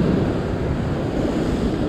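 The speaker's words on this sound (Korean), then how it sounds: "파도가 너무 세요." Strong ocean surf pounds the rocky shore at Yellow Rock near Sydney, a steady, loud wash of breaking waves with wind buffeting the microphone throughout and no voices.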